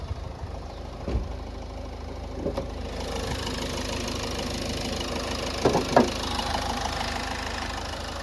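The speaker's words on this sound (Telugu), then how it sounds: "ఇప్పుడు మీరు ఇంజన్ సౌండ్ వినొచ్చు" A 2018 Ford Figo Aspire Titanium Plus idling with the bonnet open, a steady low engine hum with a few brief knocks and clicks, close by and without talk.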